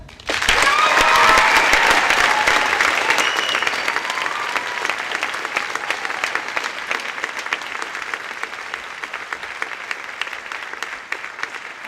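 Steady applause from a large audience at a high school graduation ceremony for a senior, loud and sustained for twelve seconds, with a scattering of cheers early on before it gradually thins.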